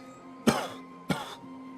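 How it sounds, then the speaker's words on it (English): Two harsh coughs, a rasping hack and then a second slightly softer one about half a second later, close and fairly quiet against a low steady background hum. "you begin to start coughing,"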